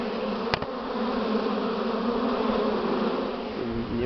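Buckfast honeybees carrying pollen loads fly at the entrance of their hive, making a close, steady, many-voiced buzz, broken once early on by a sharp click.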